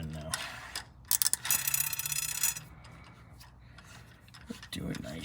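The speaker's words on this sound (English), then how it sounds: "run the tap through, make sure everything's copacetic" A thread tap chases bolt holes in a 1937 Packard Super Eight engine block, producing close, intermittent metallic scraping and ratcheting bursts with a few sharp clicks, with brief talk near the end.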